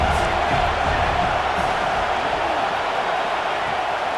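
A stadium crowd roars at a football game, a loud, steady wall of cheering and noise filling the space throughout with no distinct breaks.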